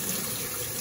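Spring water pours steadily into a blender jar holding tea for a sea moss immunity drink, a loud continuous gushing splash with no pauses.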